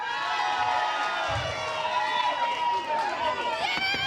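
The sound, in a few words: crowd cheering for a contestant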